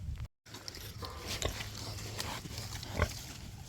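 Pigs on a muddy farm give faint, scattered grunts at a distance, with a few louder snorts near the end.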